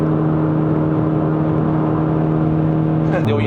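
A Honda City Hatchback RS, the facelifted GN5 with a naturally aspirated engine and CVT, pulls at 58% throttle: a steady engine drone with a whirring hum, fairly loud inside the cabin, ending with a brief click.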